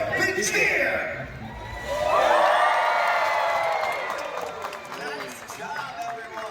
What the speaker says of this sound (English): When you see Trua in the air, I want you to give him a great big cheer.